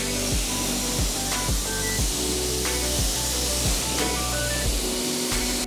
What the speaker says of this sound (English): I'm actually gonna rinse it now.